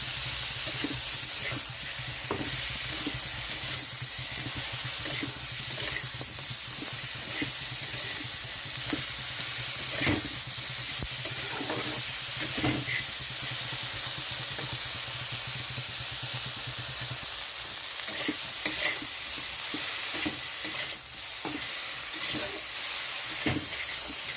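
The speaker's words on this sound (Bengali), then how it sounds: "মশলাটা ভালো করে কষাতে হবে" Spice masala with Kashmiri chilli powder, cumin powder and tomato sautéing in a pan for a bhetki fish curry with potato and brinjal, a continuous close sizzle and hiss broken by intermittent scraping stirs.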